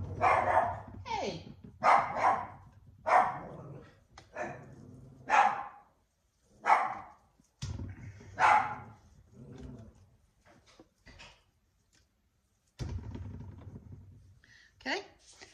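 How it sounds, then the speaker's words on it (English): A dog barks close by in a rapid series of loud barks, pauses, then lets out a few more. "I don't know what she was barking at."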